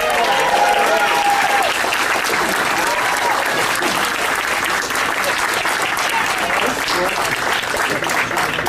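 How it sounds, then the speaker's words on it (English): Applause from a fan-convention Q&A audience at Chiller Theatre Expo, steady and full for the whole stretch, with some cheering and chatter mixed in near the start. "let's give Scott a big round of applause"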